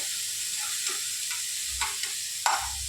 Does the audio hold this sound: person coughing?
no